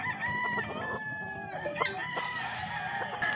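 An elevator Kelso gamecock on a game farm crows loudly and close by, one long drawn-out call with a few clucks and other fowl sounds behind it.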